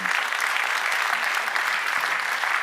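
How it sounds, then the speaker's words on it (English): Audience applause for a panelist at a panel discussion, a steady dense wash of clapping throughout with no talk. "A big round of applause here."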